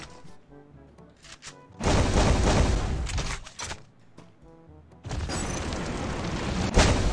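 Weapon fire in a shooter video game, heavy sustained bursts of shots with booming impacts, loud and dense, in two long stretches separated by quieter sparse activity.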